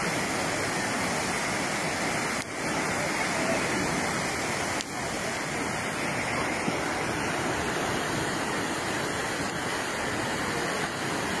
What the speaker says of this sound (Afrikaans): Ja, dis verskriklik baie water